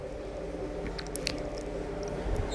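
Hands knead chicken pieces in a spicy marinade, giving soft wet squishing and squelching sounds over a steady background hum, close and continuous for a couple of seconds.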